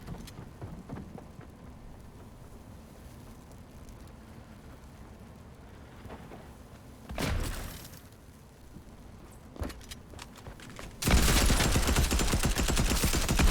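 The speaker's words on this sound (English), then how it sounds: "I missed with the machine gun" Machine gun fire in Fortnite: a quiet stretch with a short burst, then a loud, dense, continuous volley of rapid shots sustained to the end.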